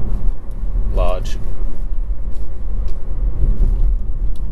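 A 1.0-litre three-cylinder EcoBoost engine in a Ford EcoSport SUV with a six-speed manual gearbox, driving on the road: a steady, loud low rumble of engine and road noise throughout, with a brief higher whine near the start.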